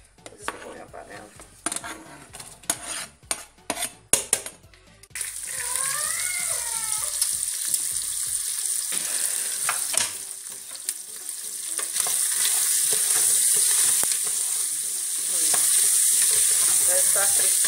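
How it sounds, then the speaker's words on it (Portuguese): Bacon and calabresa sausage fry in oil in a pan, starting with a few knocks and stirring, then a loud, steady sizzle that grows louder and continues throughout. "vou estar dando uma fritada no bacon com a calabresa"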